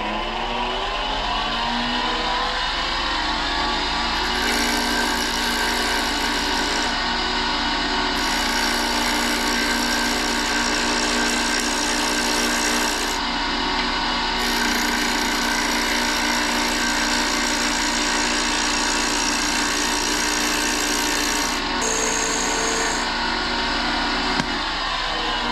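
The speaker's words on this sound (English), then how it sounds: "I'm going to be using our D-Way skew on this, and so we'll get to turning." A wood lathe spins an offset pen blank while a D-Way skew chisel cuts it, giving a loud, continuous motor whine with steady harmonic hum and shifting scraping tones throughout, with no talking.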